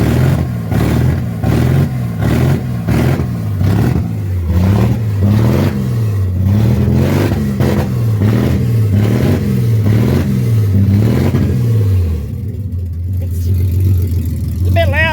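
A loud Ford AU ute engine, running rough and smoky, revs up and down in steady repeated surges before settling into a steady idle near the end.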